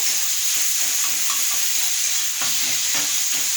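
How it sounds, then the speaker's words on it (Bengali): Tomatoes frying in a pan with oil for a potato curry, stirred so that a continuous loud sizzle and hiss carries faint scraping, close and steady throughout, with no voices. "এরপর এটাকে ভালো করে নাড়াচাড়া করব"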